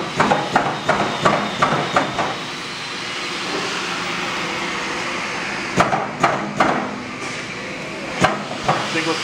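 A Minster stamping press runs in inch mode, a steady loud mechanical roar punctuated by clusters of sharp metallic knocks, first in a quick series, then again after a quieter stretch.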